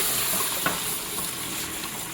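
Chopped onion frying in hot oil with whole spices such as cinnamon and black cardamom, making a steady, dense sizzle that runs evenly throughout, broken by one faint tap early on.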